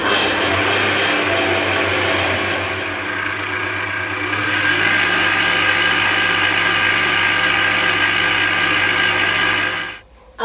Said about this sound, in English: I'll just whisk this until everything is smooth